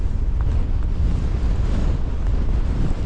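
Strong, steady wind gusting across an open hillside on a Scottish Borders hike, roaring continuously against the microphone with a deep buffeting rumble throughout and no voices.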